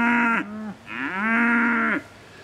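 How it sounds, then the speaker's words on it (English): A cow moos loudly and close by in two long, drawn-out calls separated by a brief pause, alone with no talk over it. "AKA Winnie, AKA Noisy Cow, AKA kept me awake again last night."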